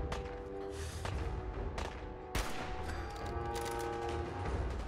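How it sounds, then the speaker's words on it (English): Gunfire in the video game Fallout 4: several rapid bursts and sharp shots scattered over steady game background noise, with one loud crack standing out near the middle. "Who are they shooting at?"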